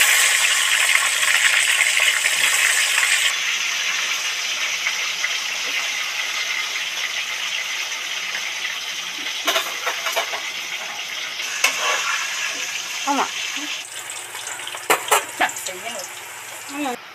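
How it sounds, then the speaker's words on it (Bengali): Potatoes dropped one by one into hot oil in a wok, a loud bright sizzle that gradually quietens, followed by scattered clinks and scraping of a utensil as they fry. "এবার আলুগুলো একটা একটা করে ছেড়ে দিচ্ছি, লাল লাল করে ভেজে নেব"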